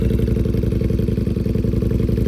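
A 2023 Ducati Panigale V4S fitted with an SC Projects exhaust idles loudly and close by, its rapid, lumpy pulsing burble steady and uneven throughout, with no talking.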